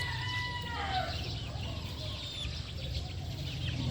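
A crowded brood of young chicks feeding hungrily: continuous high peeping and chirping from many birds at once, with a steady low background rumble.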